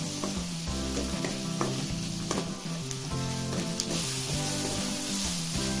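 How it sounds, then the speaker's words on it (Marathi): Tomatoes sautéing in a pan with onion for a mixed vegetable Kolhapuri curry; a steady sizzle runs beneath background music with a melodic line throughout, with no voices. "टोमॅटो घालायचा आहे, आपण परतून घ्यायचा।"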